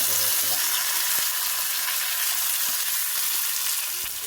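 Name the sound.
tomato and curry leaves frying in a pan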